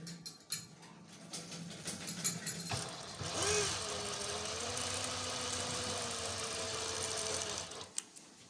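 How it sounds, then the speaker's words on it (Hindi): A sewing machine stitches a trouser pocket, starting with a few short bursts and then settling into a long, loud, steady whirring run before it stops, with no one speaking. "ऊपर तक सिलाई लगा देनी है।"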